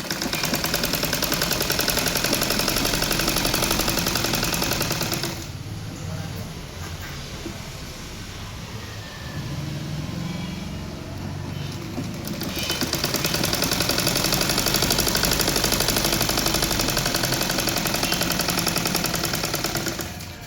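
Sewing machine stitching churidar lining, a loud rapid mechanical chatter running steadily, pausing midway to a quieter lull with soft handling noise before the stitching resumes at full speed.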